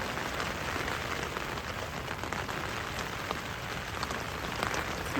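Rain drums steadily on a one-person camping tent, a close continuous patter of drops at constant level with no talking.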